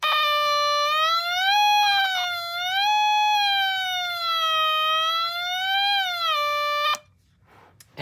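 A Snap Circuits siren tone generator emits an electronic wailing siren, a clean pure tone sweeping slowly up and down for about seven seconds before cutting off abruptly, loud and close.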